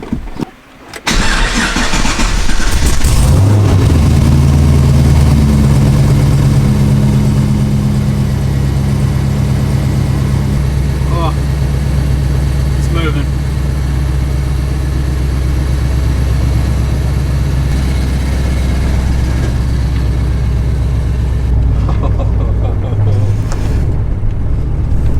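A long-stored car with a freshly reinstalled transmission and clutch starts and runs, its engine catching with a loud burst then settling into a steady, close, rumbling drone as it drives, with a few faint knocks along the way.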